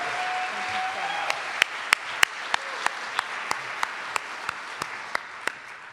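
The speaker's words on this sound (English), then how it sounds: "I think we need another round of applause for Randy" Audience applause for Randy at a Seattle community reception, a continuous wash of clapping with a regular series of sharp, single claps standing out close by, and a brief tonal sound near the start.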